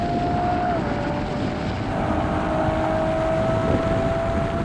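A car engine revs hard at high speed in a long third gear during a drag race, a loud sustained drone with a steady tone under strong wind rush, close and continuous throughout.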